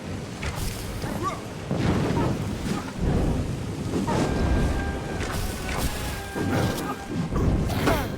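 A Blade Storm attack in Kingdoms of Amalur: Re-Reckoning: a dense, loud run of smashing, whooshing blade hits and crashes, with repeated heavy impacts throughout.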